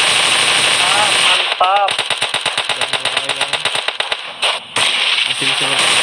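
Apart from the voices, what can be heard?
gunfire in the video game PUBG Mobile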